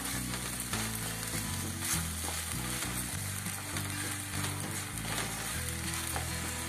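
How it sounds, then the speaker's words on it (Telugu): Amla jam with melted jaggery stirred in a pan, a soft continuous bubbling sizzle heard under steady background music with a rhythmic bass line. "బాగా కరిగి బాగా దగ్గర ఉన్నంత వరకు కలపాలి"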